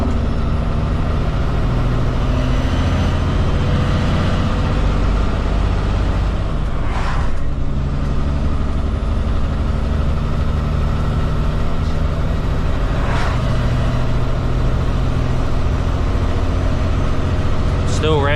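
A road train prime mover's diesel engine drones loudly from inside the cab on a highway run, a steady low rumble that holds high revs throughout while the driver talks over it, with a couple of brief hissing bursts.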